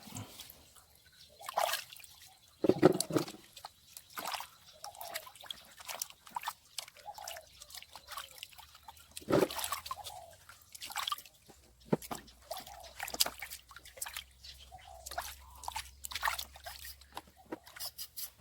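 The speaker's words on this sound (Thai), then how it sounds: "ก่อนอื่นเราก็นำมันเทศกับขิงมาล้างน้ำทำความสะอาด ให้เรียบร้อย" Sweet potatoes and ginger being washed in water, with intermittent splashes, drips and sloshing in a quiet room, close and fairly soft, with scattered handling sounds between the bursts.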